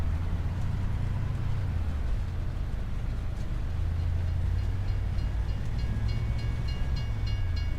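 A train rumbles past in Farming Simulator 25, a low, steady rolling drone of wheels and cars. Brief horn-like tones ring out near the end.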